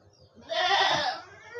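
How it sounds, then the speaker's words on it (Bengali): A single goat in a home goat shed lets out one loud, close bleat lasting about half a second, with quieter barnyard background before and after. "দেখেন আমাদের ছাগলের ঘর, একটা ছাগল, এখানে একটা ছাগল"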